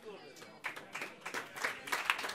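Indoor audience applause at a live event, rising from faint scattered claps into fuller clapping, with talk mixed in.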